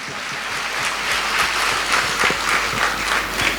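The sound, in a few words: church congregation clapping hands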